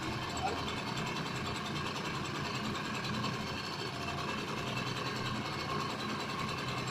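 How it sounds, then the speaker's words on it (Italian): A 1966 Peripoli Giulietta 50cc moped engine runs steadily for the whole stretch, a continuous dense mechanical buzz with no breaks, fairly close and even in loudness. "il motore è partito"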